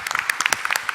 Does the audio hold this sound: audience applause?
yes